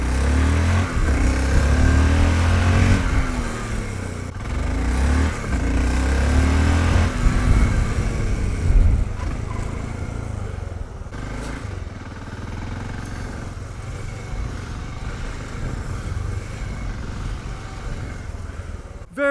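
A 2020 Voge 650DS (Loncin DS8) motorcycle ridden hard around a fast lap: a loud, continuous engine drone that surges and revs, easing off slightly partway through, with no voices.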